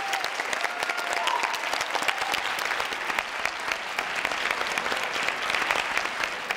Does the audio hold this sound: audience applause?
yes